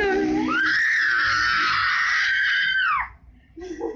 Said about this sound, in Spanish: Ella está gritando,